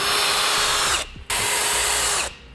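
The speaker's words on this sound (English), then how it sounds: "taking a drill and drilling a 1/2 inch hole up through the top part of that subframe" A power drill whines at high speed, drilling a hole up through a steel car subframe on a 2015 Chevrolet, running in two bursts with a brief pause between, loud and close.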